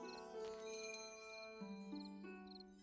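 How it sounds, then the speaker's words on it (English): Soft, high chime dings from the video game Little Witch in the Woods, repeating lightly over gentle sustained background music, faint and tinkly with no talking. "I like the little bell sounds like ding."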